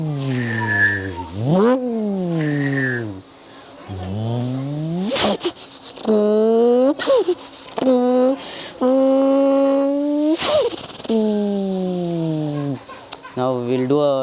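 A child mimics turbocharged car engines with his voice: rising and falling revs, whistling turbo spool and squeal-like bursts, all loud and close in quick succession.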